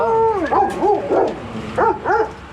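An American Akita dog gives a string of loud, close barks and yips, several short bursts in quick succession with brief gaps between them, heard alone with no talking.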